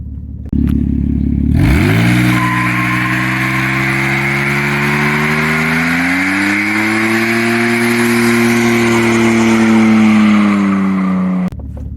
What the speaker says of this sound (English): Let me insert a video of me doing a burnout.